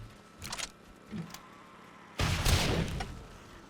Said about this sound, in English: One more rocket.